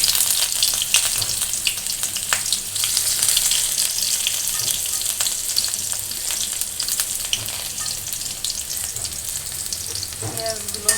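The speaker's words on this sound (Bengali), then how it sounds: "পেঁয়াজগুলো হালকা ভেজে নেব।" Chopped onions sizzle and fry in hot oil in a wok, a steady close hiss with occasional stirring scrapes and pops throughout.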